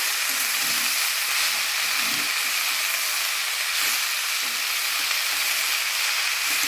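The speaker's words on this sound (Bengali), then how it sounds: "আমি আজকে এই যে এইভাবে শাকটা ভাজা করছি" Leafy greens sizzle steadily in a pan, a dense continuous frying hiss close by with faint soft stirring, no talk.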